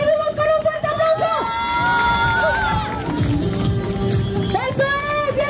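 Spectators at a cross-country race finish line cheer and shout loudly for an arriving runner, a dense continuous crowd roar with excited voices and whistles rising over it throughout.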